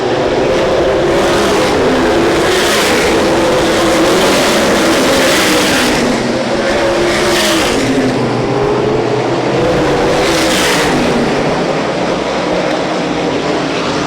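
USAC sprint cars race around Winchester Speedway, loud engines roaring and droning continuously as cars pass close by, with the pitch rising and falling in repeated sweeps as they go by.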